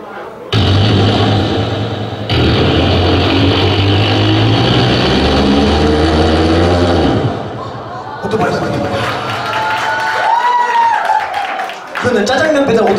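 A performer at a pumba entertainment event in Osan uses his voice to imitate a jajangmyeon delivery motorbike through an echo-heavy microphone, giving a loud buzzing drone that shifts pitch. He also talks, and the audience laughs and claps.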